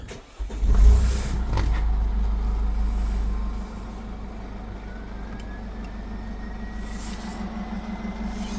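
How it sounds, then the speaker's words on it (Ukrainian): A Mercedes Sprinter 907/910 van engine cranks and catches with a loud low burst, settles into a high idle, then drops to a steady, quieter rumble close by. "Тепер можна заводити машину."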